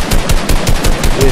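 Rapid automatic gunfire from a video game, a tight burst of about eight evenly spaced loud shots with no talking.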